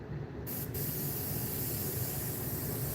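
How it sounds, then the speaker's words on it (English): An airbrush sprays thick paint at about 50 psi, giving a loud, steady continuous hiss that runs almost the whole time without a break. "So again, just a thin little spray."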